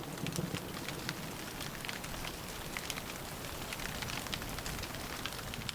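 Steady rain patters and hisses evenly throughout, a dense, fairly quiet wash of drops with no voices, falling in the Vosges.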